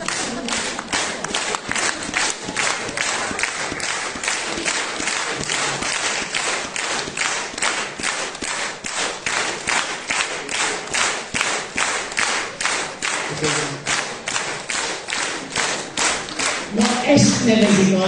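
A stage concert audience claps in steady rhythmic unison, a long run of sharp, evenly spaced claps that builds toward a louder, looser burst of applause and cheering at the end.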